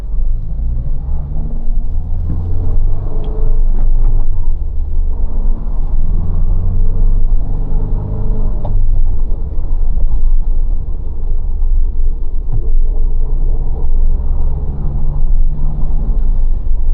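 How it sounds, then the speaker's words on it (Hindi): Heavy Sunday road traffic surrounds a 2024 Mahindra Thar RWD LX hardtop with a manual gearbox, with a steady low engine and road rumble inside the cabin and occasional nearby vehicle sounds passing by. "so a lot of people are outside. I believe that's why इतना ट्रैफिक है"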